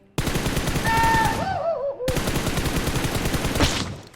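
Loud, continuous automatic gunfire in a shooter video game, rattling in rapid bursts with a brief gap partway through, accompanied by whining in-game sound effects.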